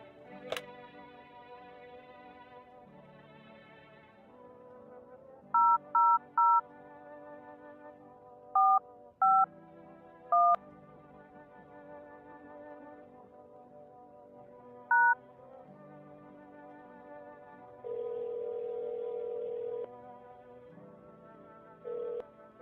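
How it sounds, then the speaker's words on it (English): Phone keypad tones beep one after another in the video game No I'm not a Human. The dialing comes in short bursts, followed by a longer steady ringback tone over a quiet, humming background. "I should make that phone call."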